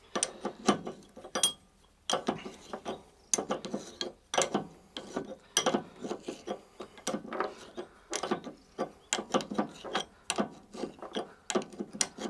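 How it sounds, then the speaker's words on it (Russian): A nut is wound back onto a greased washer on Lada Kalina suspension, producing rapid, close ratcheting clicks in steady repeated bursts. "И уже заворачиваем гайку назад."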